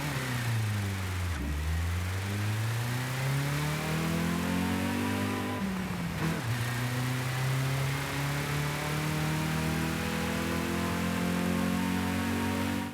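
A Toyota Sera's small engine revs repeatedly in Forza Horizon 5, its pitch climbing, dropping sharply and climbing again in a steady, loud, close whine over constant noise, with no voices.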